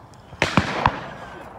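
Sharp shotgun reports at a FITASC sporting clay shooting ground, three quick close cracks within half a second with a short outdoor echo.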